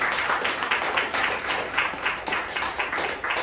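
A church congregation breaks into steady, loud applause after a Bible reading, a dense wash of many hands clapping together with no break.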